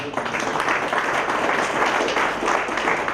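An audience claps loudly and evenly at a charitable trust's general body meeting and founder's birthday celebration, a dense round of applause that carries on for several seconds with no voices over it.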